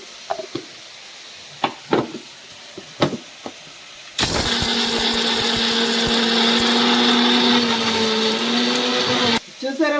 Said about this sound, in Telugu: దీన్ని మిక్సీ ఆడుకుని పౌడర్ చేసుకున్నాం ఫ్రెండ్స్